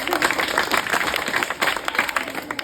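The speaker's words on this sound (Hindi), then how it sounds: "वीरेंद्र के लिए ताली बजाओ जोर से" Classroom of students clapping for a classmate, a dense burst of quick hand claps close by, steady and fairly loud throughout.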